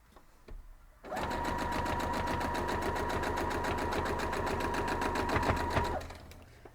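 A sewing machine stitches quilt block pieces for a diamond star quilt block in a steady, fast, even whir that runs for about five seconds. It starts and stops abruptly, is close and loud, and has no talk over it.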